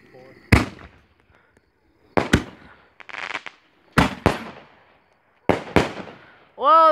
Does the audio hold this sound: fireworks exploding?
yes